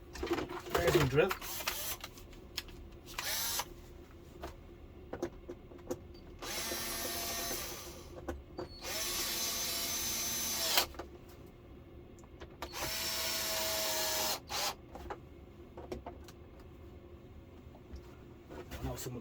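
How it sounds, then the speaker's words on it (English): Power drill driving screws into the back panel of a Samsung UE39D5300 TV during a repair, three loud whirring bursts of a few seconds each with short pauses, between clicks and handling noises; someone speaks briefly. "There's the drill."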